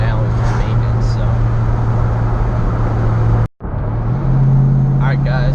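Steady low engine drone and road rumble inside a moving Ford Mustang, loud and continuous with a brief dropout, while someone talks over it.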